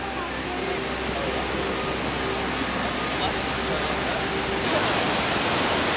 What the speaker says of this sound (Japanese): 滝の音がすごい激しくなってきましたね。